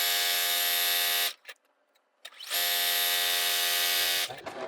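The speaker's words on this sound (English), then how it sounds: "we're gonna sew this green strip to one of the sides that is 108" A sewing machine stitches a green fabric strip onto a wide quilt backing, a loud, close, steady motor hum in two long runs split by a short pause with light handling noise.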